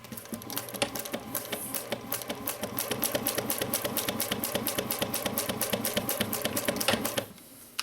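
A sewing machine back stitches a tote bag, running in a fast, even clatter of needle strokes close by, slowing briefly early on, then steady until it stops abruptly near the end.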